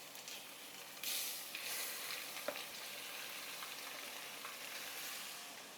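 One kilogram of chicken pieces frying in a pot with ginger and garlic for a one-pot chicken pulav gives a steady, soft sizzle and hiss, with a couple of brief stirring scrapes and no talk.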